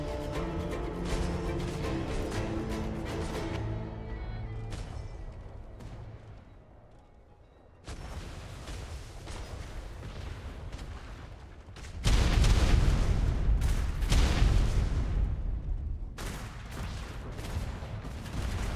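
Ship cannons firing in a naval video game battle, heavy booming volleys that rumble on and on, a lull in the middle, then a louder, denser barrage of blasts and crashes toward the end.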